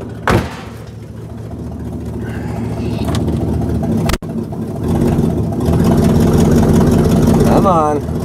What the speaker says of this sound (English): it's got straight pipe true dual exhaust